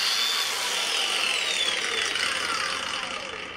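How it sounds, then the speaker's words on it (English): A Makita brushless angle grinder winds down under its brake as a loud, high-pitched whine that falls steadily in pitch and fades over a few seconds. "Check the brake on the Makita."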